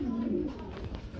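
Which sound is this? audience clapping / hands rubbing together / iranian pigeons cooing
iranian pigeons cooing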